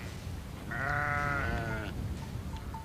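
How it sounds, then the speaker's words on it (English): A single drawn-out bleat from sheep or goats on overgrazed, exhausted farmland rises clearly over a low, steady outdoor background. "They allow hundreds and thousands of sheep and goats to walk across here"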